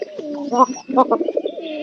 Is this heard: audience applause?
no